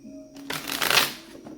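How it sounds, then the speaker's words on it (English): A deck of tarot cards is shuffled once, a close, brief riffling whoosh that swells and fades within about a second. "Let's do two more shuffles for Aries person."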